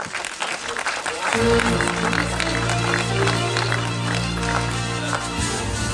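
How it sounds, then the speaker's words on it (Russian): Audience applause at an award ceremony, a dense sustained clapping that swells in after a moment and holds steady, with a held musical tone sounding underneath. "Ваші аплодисменти"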